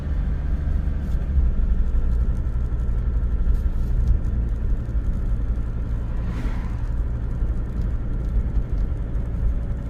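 Steady car engine hum and tire rumble while driving, a continuous low drone heard from inside the vehicle, fairly loud, with no talking.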